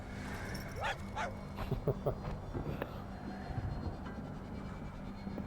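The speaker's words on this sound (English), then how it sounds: "It's funny how these things bark at you when you click on the opponent's pet." Short yips and barks from a pet dog in the MTG Arena card game, a few quick bursts over steady game background sound.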